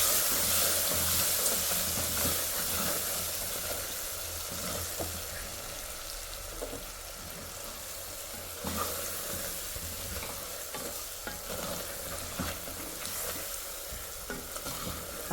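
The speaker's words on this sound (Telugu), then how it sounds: "సో ఇప్పుడైతే వేసాక ఒకసారి బాగా ఫ్రై చేసేస్తాం." Sambar powder fries in a pan for radish sambar, a continuous loud sizzle and hiss with repeated scraping and stirring strokes throughout, slightly stronger at the start.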